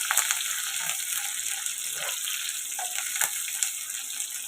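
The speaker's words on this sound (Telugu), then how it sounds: "ఇది ఫ్రై అవనిద్దామండి ఇలా ఫ్రై అయ్యాయి కదండి ఆనియన్" Onions frying in a pan give off a bright, continuous hiss with scattered crackles and pops, fairly close and steady, with no talking.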